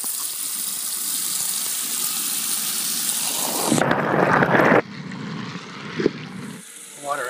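Loud, steady rush of running water poured over an iPhone 5 in a LifeProof case, close up, cutting off abruptly partway through, followed by quieter splashing and a few knocks.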